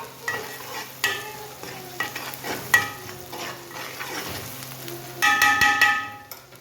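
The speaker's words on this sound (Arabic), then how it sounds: "حطينا طشنا الطماطم في البصل" Tomatoes sizzle in fried onions in a pan, with frequent stirring scrapes and clinks of a utensil against the pot over a steady hiss, busier toward the end; no talk.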